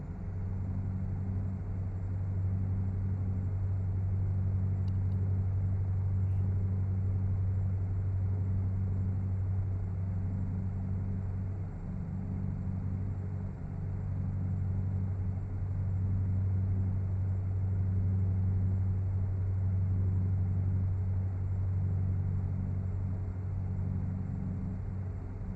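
A truck engine in American Truck Simulator drones at a steady low pitch as the truck drives, a loud continuous rumble that holds nearly unchanged throughout with no talking.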